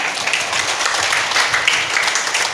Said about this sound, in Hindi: तालियों से स्वागत किया।